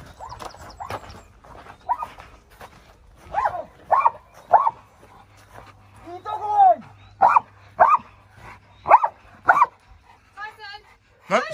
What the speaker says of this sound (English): his job is, on that command for Furan, is to go and look for the intruder and indicate by barking